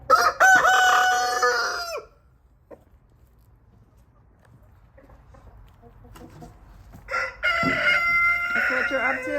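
Roosters crow loudly at close range in the rain, one long crow opening and another following after a quiet stretch, with soft clucking and rain patter in between.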